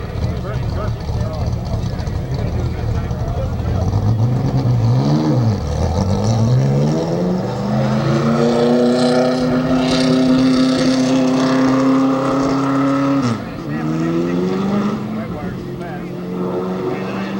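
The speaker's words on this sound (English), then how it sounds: "Jimmy Weber firing it up now from Roseville, Minnesota." Race car engine revving up during a 1982 pit stop championship at Rockford Speedway, a loud sustained roar with rising and falling pitch sweeps, heard under continuous announcer commentary.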